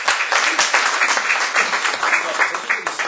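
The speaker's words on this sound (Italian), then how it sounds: "Facciamo un applauso a Donato e gli diamo." Audience at a cultural talk event applauding, a short burst of steady clapping from a small crowd, close and fairly loud.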